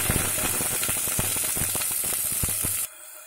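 Whole garam masala and green chilies frying in a little oil, a close crackling sizzle with sharp pops and spits that cuts off abruptly near the end.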